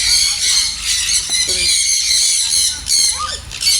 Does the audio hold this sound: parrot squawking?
yes